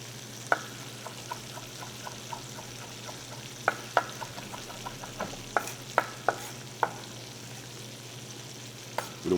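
Fresh garlic sautéing in a pan for a gourmet chicken hero sandwich, a faint steady sizzle under a low hum, broken by a string of sharp utensil taps and scrapes as it is stirred, no talking.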